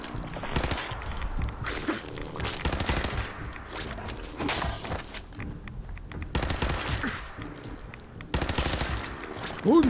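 Rapid bursts of gunfire in the video game Fallout 4 crackle repeatedly across the clip, with short pauses between volleys and a busy, layered background of game action.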